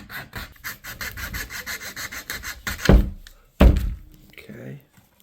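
A fine-tooth hand saw rasps back and forth through the end of an arrow shaft in quick, rhythmic strokes, followed by two heavy wooden thunks and a brief scrape.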